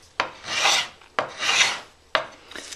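A metal scraper edge draws along an untreated wooden bow three times in a steady rhythm, each stroke a close, dry rasping scrape that swells and fades, with no talking.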